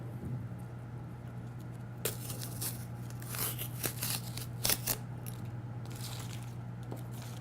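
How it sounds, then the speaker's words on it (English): Tape being peeled off a clean glass light bulb, a series of faint close crackling rips and sticky tears over a low steady electrical hum. "And now we're going to take the tape off."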